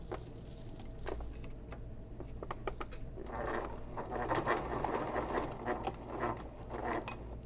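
Sewing machine stitching thick accent fabric for a messenger bag, faint irregular bursts of needle thumps and motor whir with scattered clicks, close and quiet, running alone.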